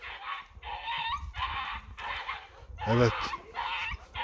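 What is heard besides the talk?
dog whimpering while being mistreated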